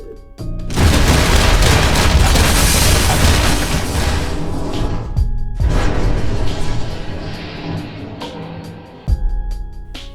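A loud, booming burst of gunfire plays as a sound effect over a Magic: The Gathering match. It rolls on for several seconds, fades, then ends with a sharp, heavy hit near the end.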